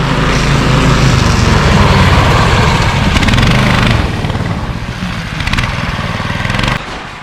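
A 20-horsepower motorized snow tow with a 500 mm track runs across March snow crust, its engine droning loudly and steadily, easing somewhat midway and dropping near the end.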